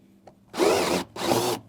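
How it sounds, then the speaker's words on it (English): A power drill runs in two short bursts, grinding loudly up close as it bores through the steel frame of a Sprinter van floor, with a brief pause between them. "we did just drill through the steel frame"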